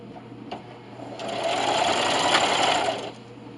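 A sewing machine stitching and backstitching the seam of a cloth receiving blanket, a close whirring run that starts softly and swells to a steady buzz before stopping.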